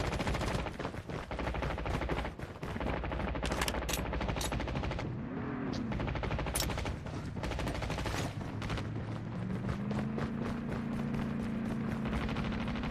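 Rapid bursts of gunfire crackle over a dense, steady background of game noise, with automatic fire repeating in quick rattles throughout.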